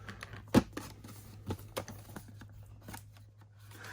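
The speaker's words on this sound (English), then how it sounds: "Open up the back of the packaging here, the bottom section." Tape on the bottom of a GI Joe Classified toy box is peeled and torn open, a sharp rip at the start followed by scattered crinkly plastic and cardboard clicks, close and fairly quiet.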